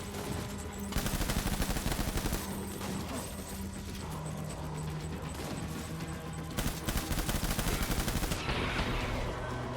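Dense, rapid gunfire from a Death Stranding battle against World War I soldiers, bursts and volleys overlapping almost continuously at close range, with no talking.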